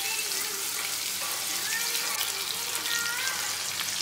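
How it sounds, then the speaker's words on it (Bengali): Potato pieces frying in hot oil for Bengali chole bhature, giving a steady close bubbling sizzle throughout with no pause. "আলুগুলো এগুলোকে ভেজে নিচ্ছি। আলুগুলো লাল লাল করে ভেজে নেব।"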